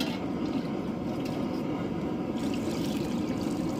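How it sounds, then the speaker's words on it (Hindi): Water poured straight into a cooking pot of mutton chops, a continuous splashing, gurgling pour heard close up for a few seconds with no talking. "चार लोटे पानी डालेंगे डायरेक्ट चार"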